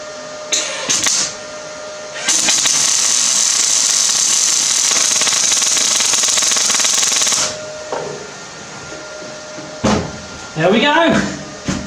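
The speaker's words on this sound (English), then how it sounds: "and we'll just weld round here" A metal bench frame is welded, making a sustained loud hiss and crackle for about five seconds, with brief bursts before it. Short clanks and a voice follow afterward.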